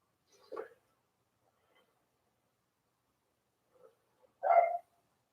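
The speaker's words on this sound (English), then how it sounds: "There it goes. The dog barking." A dog barks in two short bursts, a single bark near the start and a louder, fuller bark near the end, with near silence between them in a quiet room during a live yoga session.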